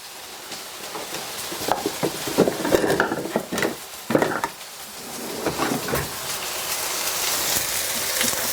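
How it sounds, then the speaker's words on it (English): Meat patties sizzle and crackle in a pan while a spatula and utensils scrape and clatter against it, with a few louder knocks in the middle. "you can see how those are frying up"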